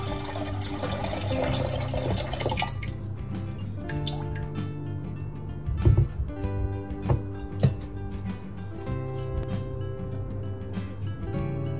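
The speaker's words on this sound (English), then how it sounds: "in a bowl, I'm adding in 1 liter of water" Water streams steadily into a bowl for several seconds, one liter poured in, with a few sharper splashes and clinks partway through.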